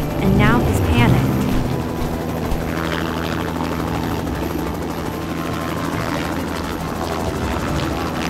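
A cartoon helicopter drones steadily throughout with a continuous rotor whir and engine hum, while a voice speaks over it and brief squeaky effects come near the start.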